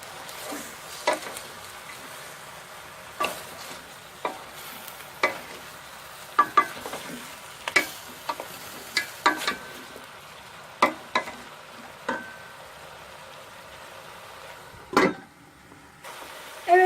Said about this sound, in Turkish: Yavaş yavaş kavrulmaya başladı.